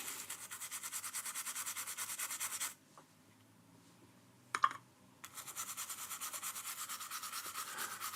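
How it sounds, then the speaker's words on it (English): A brush scrubs old contaminants off the pins of a chip from a vintage synth, a steady close bristly rasp that stops briefly partway through, broken by one sharp click, then resumes. "Scrubbing, scrubbing, scrubbing."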